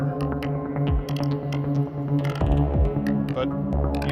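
A Pittsburgh Modular synthesizer patch plays quietly in the background, with sustained droning tones, repeated downward pitch sweeps and scattered sharp percussive clicks.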